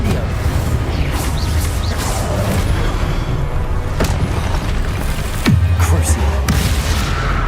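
Confringo and Incendio spells fired in combat in the Hogwarts Legacy video game: several booming blasts and crackling hits land over a constant, busy wash of battle sound effects.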